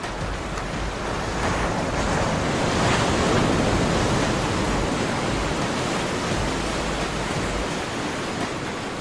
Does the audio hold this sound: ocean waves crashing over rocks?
yes